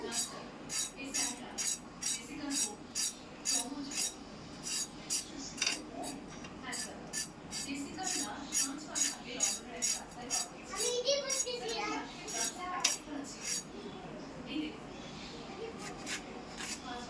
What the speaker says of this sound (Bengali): এই যে পটলগুলো এমন করে কেটে নিব চিড়ছে